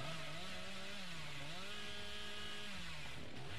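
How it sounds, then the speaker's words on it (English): Chainsaw revving in the Dead by Daylight video game, a loud, steady buzzing engine drone whose pitch rises and dips in slow waves, heard alone without speech. "you're just pulling out this chainsaw at such weird times"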